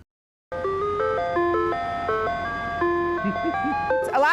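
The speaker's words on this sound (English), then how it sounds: "there was no better sound than hearing the ice cream truck coming down your street" An ice cream truck's jingle, a bright music-box style melody of stepped notes, plays loudly and continuously after a brief silence.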